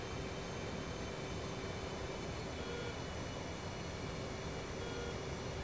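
Steady broadband roar of an F/A-18C Hornet's jet engines being throttled back in DCS World during air-to-air refueling, continuous and even with no voices.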